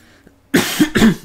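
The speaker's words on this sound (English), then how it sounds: "I've had a bit of a cough the last couple of days." A person coughs twice in quick succession, close and fairly loud, after a brief quiet pause, the second cough slightly longer and raspier than the first.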